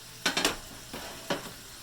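Bacon frying in a hot pan over medium heat, giving short bursts of crackling sizzle, with a cluster of pops early on and another flare-up about a second later, fairly quiet and with no voices.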